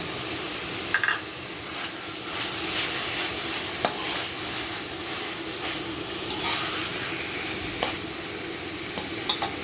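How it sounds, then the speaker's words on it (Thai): Pork added to a simmering Thai pork curry with eggplant, giving a steady broad sizzle and bubbling hiss with scattered stirring clinks and spoon scrapes, close and continuous with no talk. "ใส่หมูลงไปเป็นน้ำจักหน่อย"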